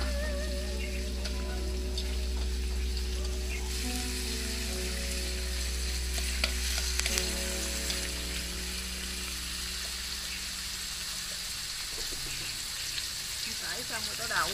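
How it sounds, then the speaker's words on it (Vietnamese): Red radish stir-fried in a pan for a vegetarian mixed fried noodle dish, giving a steady, loud sizzle with a constant low hum beneath and occasional clatters of stirring. "mình xào củ cải đỏ trước nữa gì"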